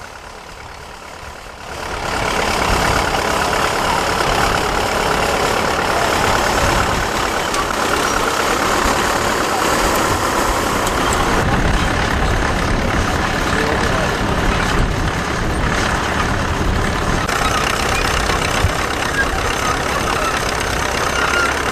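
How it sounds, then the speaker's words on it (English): A 1945 Fordson E27N tractor on spade lugs runs at a steady, loud, rough engine note after a quieter opening, a continuous mechanical drone with outdoor rumble and no pauses. "This Fordson E27N on spade lugs is going well."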